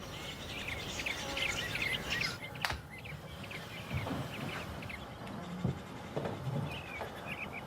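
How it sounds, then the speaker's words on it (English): Robins sing outdoors near Yellowstone. The chirps are faint and layered over a steady outdoor background, joined by a few brief clicks and rustles. "The robins are singing out there, so the bears are awake."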